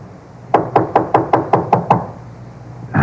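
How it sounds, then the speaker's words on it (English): In a radio drama, eight sharp knocks on a door land in a quick, even series. A lone knock follows after a short pause. "Let him knock again."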